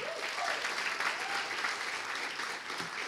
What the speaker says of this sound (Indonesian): Dan tepuk tangan sekali lagi buat Kalbis dong gokil.